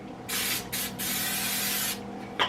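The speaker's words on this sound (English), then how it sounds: "We'll just spray it. I'm just going to spray." Cooking spray hisses from an aerosol can onto a small baking pan, two short bursts then one long steady spray, close and clear with no talk.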